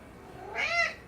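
A single short cat meow rises and falls, close and clear over a quiet room.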